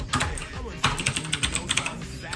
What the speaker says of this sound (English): I will type that right now.